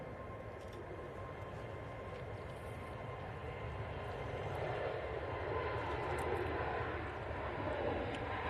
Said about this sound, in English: She just wants to hear those Pratt & Whitney's engine starts up.